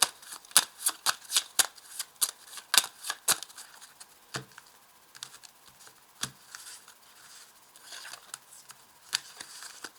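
A deck of 32 tarot-style playing cards is shuffled close up for a card reading, with a quick run of crisp riffling flicks followed by sparser taps and slides.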